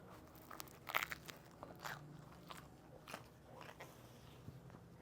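Close, quiet crunching bites into pizza with burnt cheese, a cluster of crisp cracks followed by softer chewing and scraping, with no talking.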